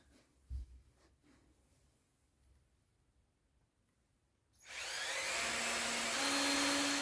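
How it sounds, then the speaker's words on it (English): A power drill boring holes into scrap wood for a Christmas DIY project starts abruptly after a few quiet seconds with faint handling knocks, then runs loud and steady, its whine rising in pitch as it bites in. "First, I'm going to drill holes and then I'm going to screw everything together."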